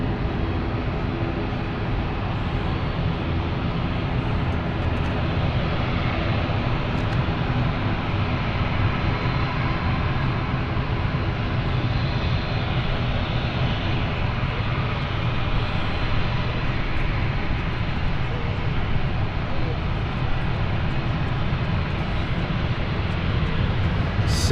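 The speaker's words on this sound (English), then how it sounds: "we want to focus on the parking here of the ATR" An ATR turboprop airplane taxiing to park at London City Airport, a steady, loud engine drone that stays even and continuous throughout.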